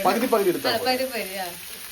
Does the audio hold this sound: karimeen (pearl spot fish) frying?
yes